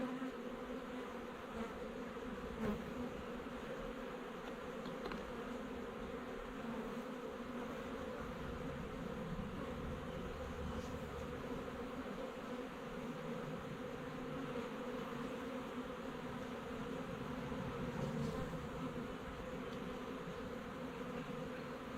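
Honey bees swarm around a storm-felled tree, a dense, continuous buzzing hum that stays steady and close throughout with no talking.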